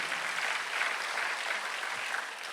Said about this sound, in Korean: 박수를 치며 하나님께 올려주시라고